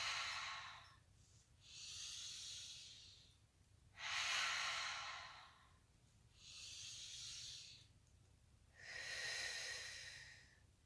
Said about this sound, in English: breathing in on the way up